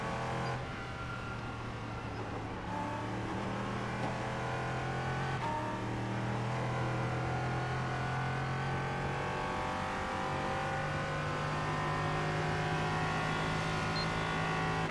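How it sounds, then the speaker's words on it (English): Race car at a NASCAR desert race night pulling away at pace speed, a steady engine drone that rises gradually in pitch and holds on over fifteen seconds, heard from inside or close by, no talk. "Here I am driving it off, just going pace speed."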